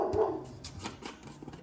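A dog barks at squirrels in the morning, a few short sharp barks at a moderate distance, fairly faint.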